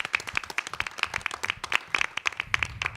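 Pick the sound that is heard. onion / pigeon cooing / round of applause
round of applause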